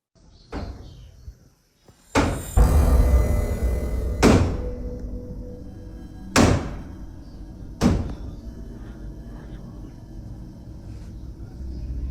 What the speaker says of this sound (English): You can hear the knocking land 5 times before everything goes quiet.